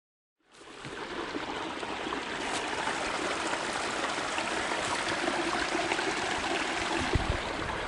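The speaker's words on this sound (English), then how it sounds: "That's the stream where I just filtered water." Mountain stream on the Appalachian Trail near Deep Gap Shelter, flowing in a steady, full rush of water with no voices, starting abruptly after a brief silence and holding an even level throughout.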